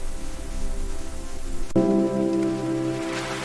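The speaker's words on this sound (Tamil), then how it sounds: "கனமழை பெய்கிறது." Heavy rain falls in a cartoon, a loud steady wash of dense rain noise that grows fuller and brighter after a sudden shift partway through.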